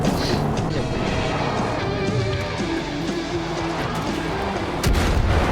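An in-game explosion in Far Cry 5, a loud burst of noise with crackling debris that settles into a steady rumble, then another thump near the end.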